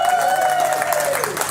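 An audience at a live music show breaks into a round of applause. Dense clapping and crowd noise fill the moment, with a sustained tonal sound running underneath and some voices mixed in.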